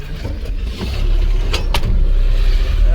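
A truck packed with tomato crates rumbles nearby as its engine builds from a low idle into a louder, sustained drone as it pulls away, with faint clicks and no talk.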